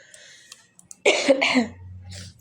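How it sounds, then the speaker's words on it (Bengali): A person with a cold lets out a short double cough, loud and close, after a few quiet rustles. "কাশি হচ্ছে মাঝে মাঝে"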